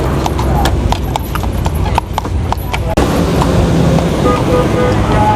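Horse hooves clip-clop rhythmically on pavement up close on a street in Guyana, mixed with road traffic noise and people talking nearby.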